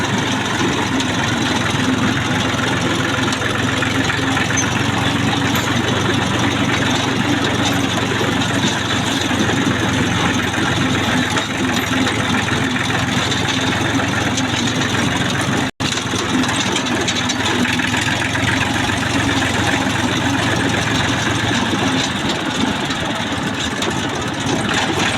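A farm tractor engine runs outdoors on the way to a field, a loud, steady rumbling drone that holds constant throughout with no talk.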